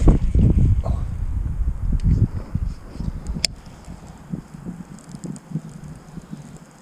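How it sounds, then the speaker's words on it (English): Wind gusting outdoors during kayak bass fishing, buffeting the microphone with loud low rumbling bursts at first, then easing to softer intermittent blustering with a brief click partway through. "Sorry if the wind's blowing."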